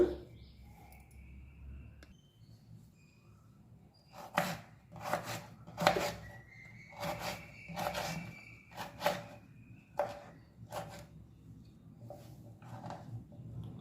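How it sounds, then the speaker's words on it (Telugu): A knife chops snake gourd into thin pieces on a board in a home kitchen, a quiet stretch followed by a steady series of sharp, close cuts, about a dozen, with no talk. "ఇలాగండి సన్న ముక్కలుగా కట్ చేసుకొని"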